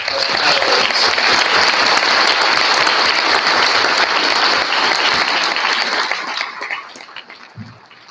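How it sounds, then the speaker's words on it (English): Enthusiastic, dense applause from a conference audience for Reyes, holding loud and steady for about six seconds before tapering off into scattered claps and quiet. "Could I have one more round of applause for Reyes?"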